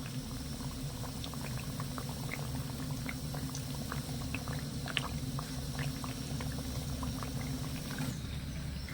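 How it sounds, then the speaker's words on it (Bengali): Sweets of flour and sugar fry in hot oil, the flipped pieces giving a steady bubbling sizzle with dense small pops and crackles. It runs unbroken at moderate level, with no voices. "এবার আমি উল্টো ওই পিঠটাও খুব সুন্দর করে ভেজে নেব"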